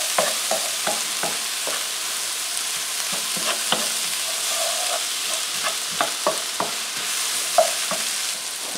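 Diced eggplant, zucchini, squash, chickpeas and peppers sauté in a pan for ratatouille, with a steady sizzle broken by repeated clacks and scrapes of a utensil stirring, close and moderately loud, no voices.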